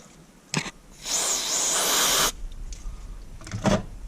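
A short puff, then a sustained hiss of aerosol cleaner sprayed on a Lotus Evora V6 air filter lasting about a second, followed by quieter rustling and another brief spritz.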